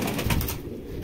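A pigeon coos softly inside a loft housing Rampuri pigeons, a brief low call set against steady, hissy background noise with no voices.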